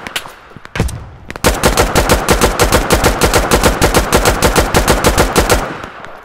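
Loud, close semi-automatic gunfire from a tactical shooter video game: a short burst, then a long run of rapid, evenly spaced shots, with no talking.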